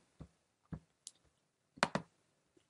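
Several sharp, quiet clicks of a computer mouse button, irregularly spaced with a quick double click near the end, heard close up in a quiet room.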